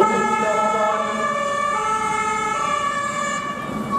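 Fire brigade reconnaissance vehicle pulling up to an incident scene at a Wuppertal fire station open day, its siren wailing loud and close with steady rising and falling tones over road noise.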